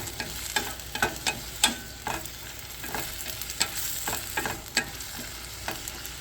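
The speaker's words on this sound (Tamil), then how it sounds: "இப்போது தக்காளி நல்லா வதங்கிடுச்சு" Tomatoes for a tomato chutney sauté in a pan while a utensil stirs them in repeated scraping strokes, a steady soft sizzle running underneath, close by with no voices.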